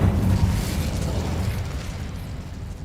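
Incendio fire spell cast in Hogwarts Legacy, a loud whooshing burst of flame that rumbles and slowly fades over a few seconds, no talk.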